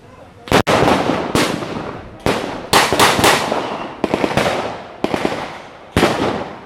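Repeated loud bursts of gunfire at a D-Day battle reenactment in Ohio crack out in irregular volleys, some close and sharp, others echoing, with little pause between shots.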